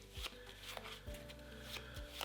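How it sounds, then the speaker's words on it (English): A deck of cards for the Heat board game being shuffled by hand in a quiet room, with soft riffling and several sharp tapping knocks as the cards are squared. "We got a shuffle. And while I'm shuffling"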